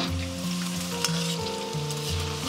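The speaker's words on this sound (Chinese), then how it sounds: "下入里脊肉，然后保持中火炸" Pork tenderloin strips deep-frying in oil over medium heat, a steady, close, bubbling sizzle that holds constant throughout with a low background hum and no voices.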